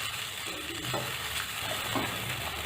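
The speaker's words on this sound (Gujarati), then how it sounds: "દૂધને આપણે ફાડામાં મિક્સ કરી લઈશું।" Milk is stirred into broken wheat in a pot, a soft continuous simmering hiss with faint scraping stir strokes at a close distance and no talking.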